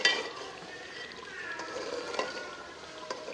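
Tomato and onion masala frying in a pan, a soft, close sizzle with light stirring scrapes and a few small ticks, steady and quiet throughout.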